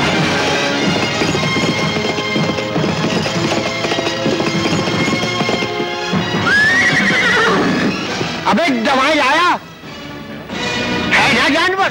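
Horse whinnies loudly and repeatedly over clip-clopping hooves in an old 1988 film scene, with music and speech mixed underneath.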